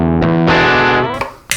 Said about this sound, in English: Again, the Fender amp by itself.